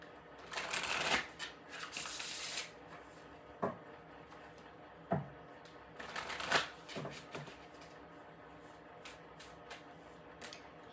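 Spellcasting oracle cards are shuffled by hand, close and soft, in repeated riffling bursts with brief pauses and a few sharper taps between them.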